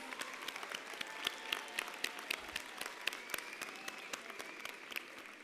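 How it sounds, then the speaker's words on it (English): Graduates at a university spring graduation ceremony in a large hall receive a round of applause: steady, moderately distant clapping from a crowd, sustained throughout with sharper individual claps standing out. "A big round of applause"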